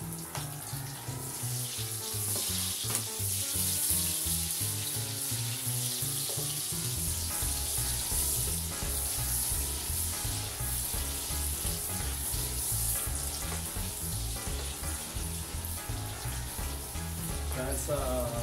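Garlic browning in oil in a pan for seafood pancit canton, with onion about to go in; a steady, even sizzle runs through the whole stretch beneath a tonal musical backing.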